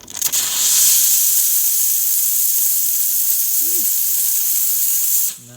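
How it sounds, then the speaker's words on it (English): Pasquini Livia 90 espresso machine steam wand letting out a loud, steady high-pitched hiss of steam for about five seconds before cutting off abruptly. "Let's do some steam."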